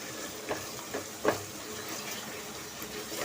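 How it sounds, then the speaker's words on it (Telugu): Masala spices frying in oil in a pan for mushroom biryani, a quiet steady sizzle with a few soft stirring scrapes. "అంటే మనకి మసాలాలు ఇవన్నీ బాగా వేగినట్టు"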